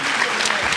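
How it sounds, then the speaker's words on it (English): A benefit concert audience breaks into applause, a short burst of dense, even clapping from the crowd filling the hall. "let's have a nice round of applause for Jeannie and Charles."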